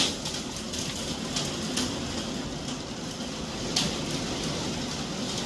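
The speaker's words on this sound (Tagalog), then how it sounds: "Umuulan ng hailstones" Steady heavy rain with large hailstones roaring across a surface, with occasional sharper impacts standing out, consistent and fairly close throughout.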